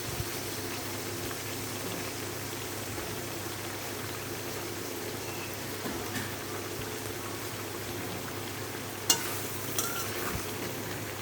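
Potatoes frying in hot oil with spices, a steady close sizzle and hiss with occasional soft stirring clicks, no talking.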